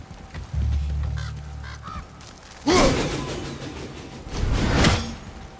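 Game birds squawk and honk in God of War (2018), a low honking call followed by two loud, harsh bursts of squawking and flapping noise at close range, with no talking.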